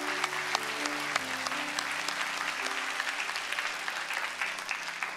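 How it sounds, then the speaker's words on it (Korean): A church congregation gives warm, continuous applause for children during a Sunday service, a soft, steady patter of many hands over a sustained organ-like chord. "우리 박수로 한번 축복해 주십시오."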